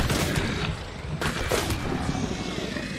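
Loud gunshots in the game Hunt ring out amid a dense, noisy mix, with a couple of distinct sharp reports and a heavy rumbling wash of continuous action underneath.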